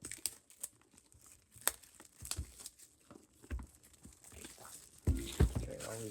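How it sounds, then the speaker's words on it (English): Packaging of a NOCO GB40 jump starter is unwrapped up close, with soft crinkling, rustling and a few sharp tearing snaps, louder handling near the end; faint voice in the background. "let's get it unwrapped"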